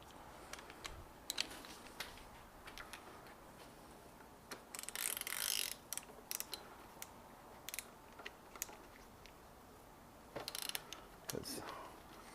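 A ratchet snugs down the fork cap on a motorcycle, a Suzuki DR650. It makes faint, irregular clicking and mechanical ticks over a low background hiss in a quiet workshop.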